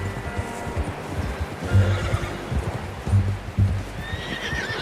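Horse in the Red Dead Redemption video game whinnying twice amid steady clip-clop hooves, with a bright high neigh near the end; close and fairly loud, no talking.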